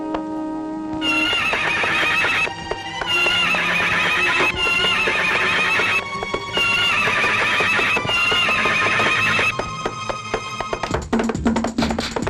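Horses neigh and whinny repeatedly in a dramatic Telugu family film scene, loud and continuous, heard over steady background music with a brief clatter near the end.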